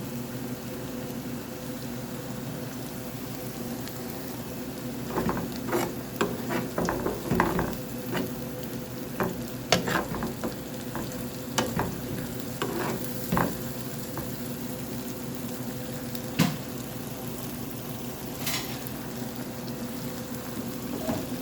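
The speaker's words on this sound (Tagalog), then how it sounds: "Then maglagay na tayo ng cooking cream." Cooking cream added to onions in a pan for carbonara, a continuous low bubbling sizzle with scattered soft stirring scrapes and clinks, steady and close, with no talking.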